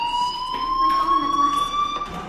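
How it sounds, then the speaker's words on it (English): A fire alarm rings in the Life Is Strange video game, a loud, sustained electronic tone that holds steady for the whole stretch with faint background noise beneath it. "do you hear that fire alarm?"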